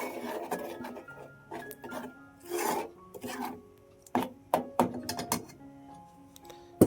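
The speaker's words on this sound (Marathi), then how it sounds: "परत एकदा फोडणी चांगली ढवळून घेतलंय" A tempering with masala paste being stirred in a pan, close irregular scraping and rubbing strokes of a spoon against the metal, with occasional knocks and clinks.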